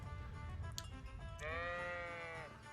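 A sheep in the game Kingdom Come gives one long, wavering, nasal bleat that swells midway and fades, following a stretch of low rumbling ambience, with no talk over it.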